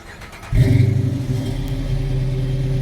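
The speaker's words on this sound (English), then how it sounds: "this has a Flowmaster mufflers with no resonator. That's why it's loud" A car engine with Flowmaster mufflers and no resonator cranks and fires up abruptly, settling into a loud, deep, throaty idle that rumbles steadily afterward.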